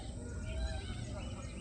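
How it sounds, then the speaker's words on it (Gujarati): Birds in a large banyan tree on the bank of a village lake, faint chirps and calls drifting from a distance over a low, steady background hum. "છતાં પણ એના ઉપર હજારો પક્ષીઓ કલરવ કરે છે."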